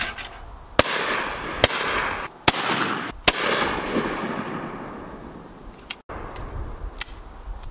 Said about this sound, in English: Some sharp shooting there, Gary, thanks for that.